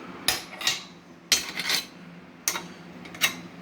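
Pots and pans banged together in several sharp metallic clangs, grouped in pairs and spaced apart, loud and close with nothing else in between.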